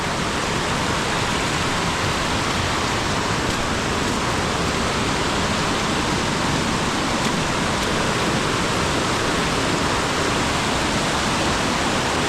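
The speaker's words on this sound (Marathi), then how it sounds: "नदीला पाणी बघा काय आलं. अजून आत्ता पाऊस लेटेस्ट पडतोय." A river in flood after heavy monsoon rain in Khed, Ratnagiri, in the Konkan: a dense, continuous rushing roar of water, loud and steady throughout, with no voices.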